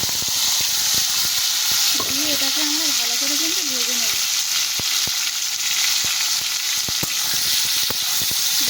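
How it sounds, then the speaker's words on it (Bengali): Boiled vegetable stalks fry in a pan with a loud, steady sizzle and crackle throughout, with a brief human voice in the middle. "যত ভালো ভাজবো ভাজলে দেখবে এই ডাঁটাটা আস্তে আস্তে আরও ভালো নরম হয়ে যাবে"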